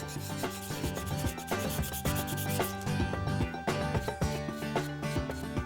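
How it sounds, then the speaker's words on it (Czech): A glass mould is finished by hand with chopping, filing and polishing, heard as dense, rhythmic scraping and rubbing strokes with sharp taps mixed in, close and fairly loud throughout. "Každá forma se dokončuje ručním sekáním, pilováním a finálním leštěním."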